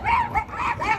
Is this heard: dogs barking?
yes